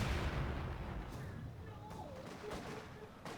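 Mortar fire in Company of Heroes 2, a deep booming impact at the start that rolls off into a long low rumble, with faint battle noise and whistling tones trailing behind at moderate loudness.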